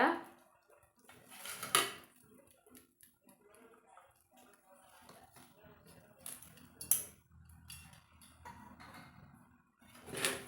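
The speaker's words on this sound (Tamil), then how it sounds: "குலுக்கி விட்டு மறுபடியும் நீங்கள் தூவிக்கோங்க" Snack mixture being shaken and spice powder sprinkled from a tin while making crunchy South Indian mixture, with rattling, clinking bursts and light scraping at close range.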